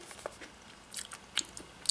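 Chocolate peanut butter popcorn pretzel crunches faintly in a big bite, a few quiet crisp snaps scattered over under two seconds.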